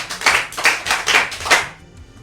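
Listeners at a Yoruba storytelling podcast give a storyteller a round of rhythmic group clapping, four bright, crisp bursts close by, then the clapping stops and leaves a quiet tail.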